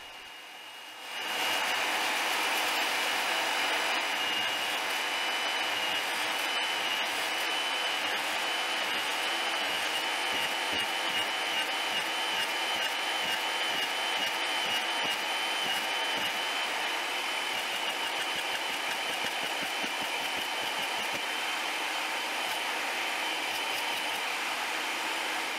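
A power saw cuts a row of slots into a pipe clamped in vice grips for a home-brewing mash/lauter tun manifold, giving a loud, steady whining roar that starts abruptly and runs unbroken to the end.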